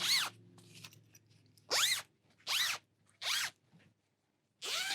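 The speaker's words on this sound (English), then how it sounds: "So then I have the zipper pull in place" A zipper pull is slid onto a length of zipper-by-the-yard tape, making four or five short, sharp rasping zips in a close, quiet workspace, with soft handling noises between them.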